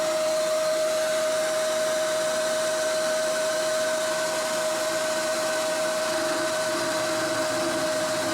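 A milling machine takes a conventional milling pass while a large steady rest is being made for an ACRA Heavy 14 lathe, giving a steady, unbroken whine and cutting hiss that holds at an even level throughout with no talking.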